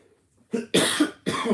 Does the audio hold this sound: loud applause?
no